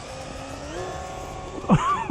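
Sno-rgon RC car on a 3S battery whining steadily as it runs, then surging with sharp rising and falling motor pitch sweeps near the end as the throttle opens.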